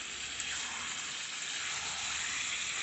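Chicken and tomato frying in oil in a pan over medium heat, a steady, soft, even sizzle that carries on without pause.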